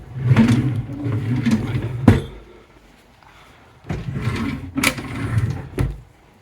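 A hotel room drawer is opened and closed in two bursts of close wooden sliding and rattling, each ending in a sharp knock.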